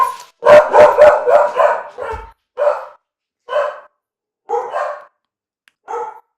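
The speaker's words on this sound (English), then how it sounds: "oh, the dogs are about to bark. I'm getting a delivery." Several dogs bark at a delivery arriving, starting with a close, loud burst of overlapping barks and then settling into single barks spaced about a second apart, with no talking.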